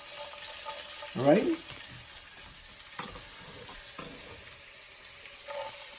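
Chopped onions hit a hot pan with a sudden hissing sizzle that settles into a faint, steady frying hiss, while a voice talks intermittently over it.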